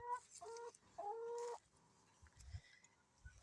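Chickens cluck and call in a garden, with several loud close bursts in the first second and a half, then quieter scattered clucks and scratching over a low background.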